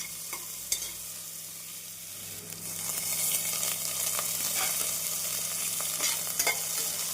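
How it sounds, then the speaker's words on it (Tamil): Onions and curry leaves sizzle steadily in hot oil, with occasional scraping stirs, close and continuous; the frying grows slightly louder partway through. "வெங்காயம் சேர்த்து ஒரு நிமிடம் வதக்கிய பின் கறிவேப்பிலை சேர்த்து விடலாம்"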